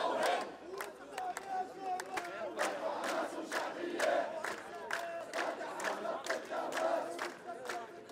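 Crowd chanting in rhythmic bursts at a rally near the Israeli embassy in Amman, Jordan, held in support of Gaza; many voices shout together repeatedly with steady, close, continuous energy.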